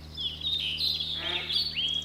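A game bird calls in theHunter: Call of the Wild, a thin, high wavering whistle repeated several times over a steady low ambient hum, fairly close and clear with no talking over it.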